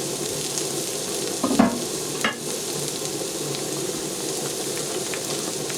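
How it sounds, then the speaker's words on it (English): Diced onion and chanterelle mushrooms frying in butter in a pan, a steady close sizzle with a couple of brief stirring clatters partway through. "when these mushrooms are about half done, I like to add some diced onion to them"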